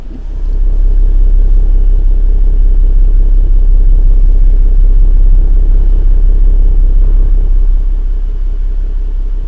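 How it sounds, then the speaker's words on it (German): A car's exhaust burbles in a steady, loud, low idle while the vehicle sits stationary, a continuous deep rumble that holds evenly throughout with no revving. "dann kommt ihr mal in den Genuss von dem Standauspuff-Sound von meinem Auto und wie laut der so ist im Stand"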